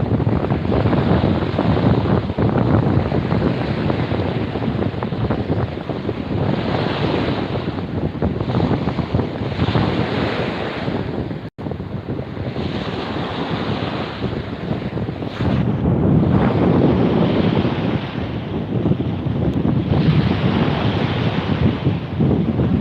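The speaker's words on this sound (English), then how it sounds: "I know, it's really, really windy." Strong seaside wind buffets the microphone in a constant loud roar, with surf washing in the background and a brief dropout midway.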